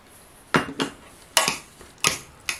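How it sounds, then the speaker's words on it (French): A spoon mixing a beetroot and ricotta verrine dressed with oil, vinegar, salt and pepper, giving four or five sharp clinks against the glass at uneven intervals, close and clear. "Alors, on mélange bien parce que sinon, on va y avoir le vinaigre que d'un même côté."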